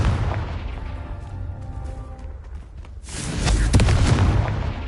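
A fiery spell blast in the Hogwarts Legacy game erupts with a deep booming explosion after a low rumbling lead-in, loud and close, its crackling roar carrying on to the end.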